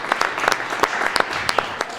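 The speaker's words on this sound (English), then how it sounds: "can we have one round of applause for the Hurt Hub?" Applause from a breakfast pitch event audience, honoring the Hurt Hub: a lively burst of many hands clapping, close and fairly loud, with a few sharper individual claps standing out, no talking over it.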